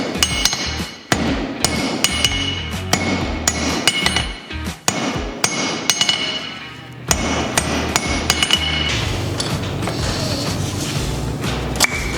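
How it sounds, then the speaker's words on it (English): Repeated sharp metal hammer blows ring out in irregular bursts as a rivet head is formed, close and loud, with short pauses between strikes and a faint metallic clink. "Just a few good, accurate hammer blows, and you've got yourself a rivet."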